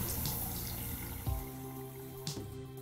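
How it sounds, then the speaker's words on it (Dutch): Water runs from a single-lever faucet into a washbasin in a home bathroom, a soft steady trickle with a couple of brief splashing drips. "En de kraan gaat weer met één hendel open."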